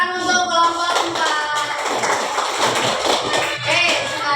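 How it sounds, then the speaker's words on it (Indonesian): Participants in a training session on artificial intelligence basics clap for a presenting group, a short, close burst of uneven hand claps mixed with taps and thumps, with some voices in the room. "Tepuk tangan untuk kelompok"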